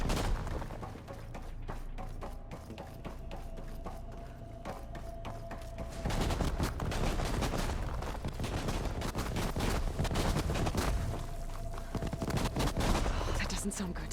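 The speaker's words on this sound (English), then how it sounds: "That thing's shooting down the center." Machine gunfire in the Horizon Forbidden West video game: rapid, continuous bursts of shots rattle loudly through the whole stretch amid booming combat noise, growing denser and louder partway through.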